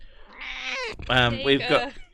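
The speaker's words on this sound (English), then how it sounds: "Let's see if I can get her to meow at you." A pet cat meows indoors, drawn-out tonal cries close to the microphone running into each other, with a person's voice mixed in around the calls.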